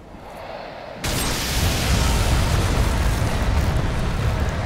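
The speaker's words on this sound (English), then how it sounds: "the explosion was so great it almost killed me" A massive explosion in Dark Souls 3 during the Nameless King dragon fight erupts after a quieter opening second into a loud, sustained roaring blast that fills the rest of the clip.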